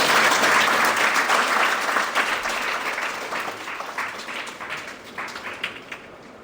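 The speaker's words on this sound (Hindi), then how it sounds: "तालियों के साथ" Sustained audience applause at a university International Day of Yoga ceremony, loud and dense at first and slowly thinning out, with no talking over it.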